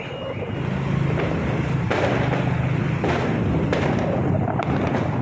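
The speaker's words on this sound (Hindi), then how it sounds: "लगातार धूम धड़ाके के साथ आतिशबाजी की आवाज़ें" Diwali fireworks go off continuously over a neighbourhood near a temple, a dense, loud wash of booms and crackles with sharp bangs standing out roughly every second.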